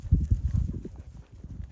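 Horse hooves clip-clop in a quick uneven rhythm as a young ranch horse is ridden while shipping calves, several close, fairly loud thuds and clops with no talking.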